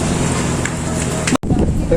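Strong seaside wind at Sabang Baywalk in Cabugao, Ilocos Sur, buffeting the microphone in a loud continuous rush with a brief dropout near the middle.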